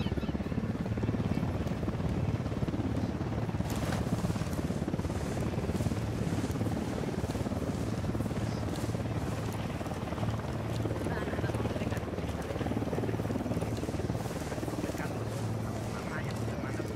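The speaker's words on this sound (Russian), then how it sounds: "Залечь, вертушка!" Helicopter flying in the video game Ghost Recon Wildlands, a steady rotor drone that stays loud and continuous for the whole stretch, with game voices speaking over it.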